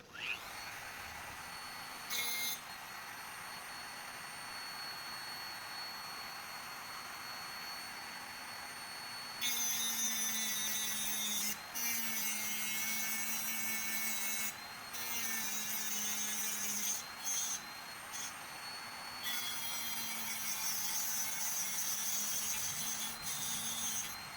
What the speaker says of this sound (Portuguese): você vai ter que cortar a blindagem